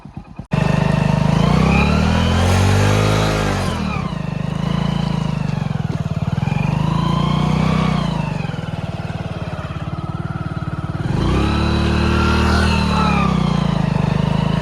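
A Hero Splendor motorcycle revs hard while being pulled out of mud, a loud, close engine that surges and falls in repeated rising and falling revs after a brief start, with no talking.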